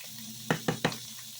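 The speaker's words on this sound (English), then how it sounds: "I'm going to add a little garlic to this butter" Garlic hits hot butter in a pan, giving three quick sizzling bursts in close succession over a low, steady hum, close and clear.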